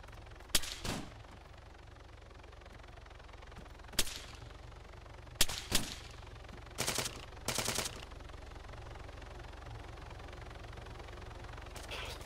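Gunfire in the military shooter Arma 3: several sharp single shots and two short automatic bursts over a steady low rumble of background ambience.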